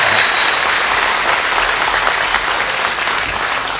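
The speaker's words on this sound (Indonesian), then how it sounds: "Kita beri tepuk tangan yang meriah." Loud, dense studio audience applause in a TVRI television studio, continuous hand-clapping from a large crowd, steady and close with no talk over it.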